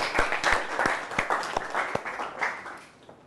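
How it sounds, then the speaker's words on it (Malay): A small class in a chemistry lesson claps for classmates, rhythmic, fairly close handclaps at a steady beat that taper off over a few seconds, with no talk over them. "bagi tepukan yang gemuruh untuk keempat-empat kawan kamu tadi"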